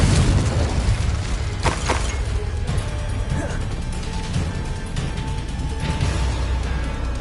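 Confringo fire spell blasts in the wizarding action game Hogwarts Legacy, a dense, continuous roar of explosive bursts and crashing debris, loud and unbroken throughout with a couple of sharper cracks.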